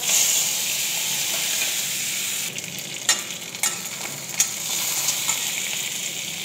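Fenugreek seeds, dried red chilies and cumin sizzle and crackle in hot oil, a steady bright hiss with a few sharp pops and stirring clicks, close and fairly loud, no talking.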